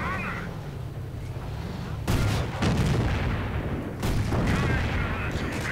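Automatic rifle fire and heavy booms from a World War II strategy game sound as a dense, continuous battle din. Two sharper loud blasts stand out, and a commentator talks over the top.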